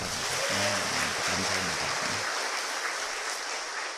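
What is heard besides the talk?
church congregation applauding the choir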